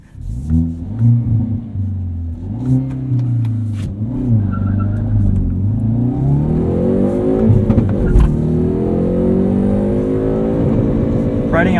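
2019 Hyundai Veloster N, front-wheel drive, revving hard toward redline in second gear, the engine note climbing and dipping between corners and then holding a steady high, loud drone from inside the cabin.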